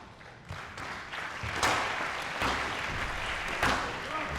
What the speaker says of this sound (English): And Ken Narain, court attendant, and Masseur gets a big round of applause